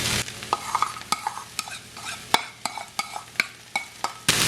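Chopped spinach fried with onions in a pan for spinach vadai, a soft sizzle running beneath sharp, irregular scrapes and clacks of a spoon stirring against the pan, close and fairly quiet.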